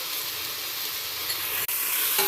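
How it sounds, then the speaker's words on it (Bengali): Vegetables frying in a pan give a steady, dense sizzle and hiss while being stirred, close and constant throughout with a brief scrape near the end and no talk. "এবার ভালো করে নেড়ে ছেড়ে নিচ্ছি"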